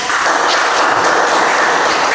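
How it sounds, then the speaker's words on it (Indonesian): Students in a classroom clapping together, a loud, dense burst of applause that runs steadily throughout with no pause. "Tepuk tangan dulu, baik."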